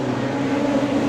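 Wingless sprint car engine, a steady dense drone from a race car during an A-main, as the driver lifts off the throttle, loud and continuous for about a second with no talk.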